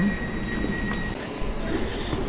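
Train at the railway station in Attnang, Austria, with a steady rumbling hum and faint high squeal of wheels throughout, as if heard on a platform or aboard.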